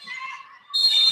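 Referee's whistle at a basketball game, a sharp sustained high tone entering partway through after a brief gym murmur and lasting to the end.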